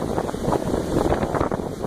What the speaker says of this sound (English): it's a really good gust right here